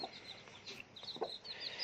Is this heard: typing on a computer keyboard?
no